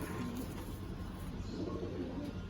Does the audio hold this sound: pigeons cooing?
yes